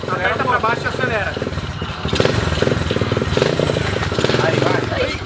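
A quad bike's engine revs up and accelerates close by, a rough pulsing drone rising in intensity, with people talking over it.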